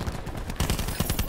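Rapid gunfire from a weapon in the shooter game Call of Duty Black Ops 4, rattling in quick bursts that grow louder and denser partway through, with game sounds underneath.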